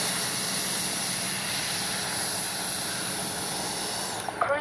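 An FMS 64mm F/A-18 Hornet RC jet on its maiden flight gives a steady, continuous whooshing roar with bright hiss that barely changes, then a few small clicks right at the end.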